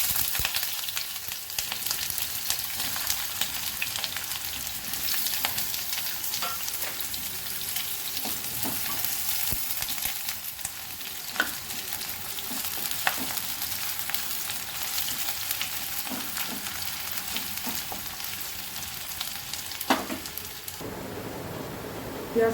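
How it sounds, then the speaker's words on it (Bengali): Onion fries in hot mustard oil, a constant bright sizzle that runs evenly the whole time with occasional stirring clicks and no talking. "তেল গরম হয়ে গেছে। প্রথমে আমি পেঁয়াজটাকে একটু ভেজে নেব।"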